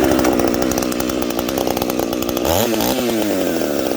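A Husqvarna 357XP chainsaw with a freshly fitted, slightly loose bar and chain runs loud and close, holding a high buzzing rev before the engine pitch swoops down and wavers near the end.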